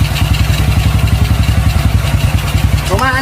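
Open-carburetor motorcycle engine running out of tune, a steady low pulsing idle with the throttle hanging and hesitating, close and loud.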